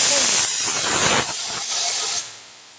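A pressure cooker whistles on a home kitchen stove, letting out a loud, steady rush of hissing steam for about two seconds before it quickly tapers off.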